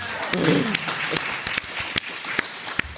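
A live podcast audience about Disney's Galactic Star Cruiser claps in scattered bursts, with sharp individual claps standing out over a low murmur of voices and a brief cheer early on.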